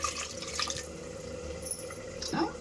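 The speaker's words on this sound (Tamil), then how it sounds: "இப்போ தண்ணி சேர்த்துக்கலாங்க." Water poured into a cooking pan of sautéed potato fry with coconut, a soft splashing trickle with a few drips, moderately close and alone without talk.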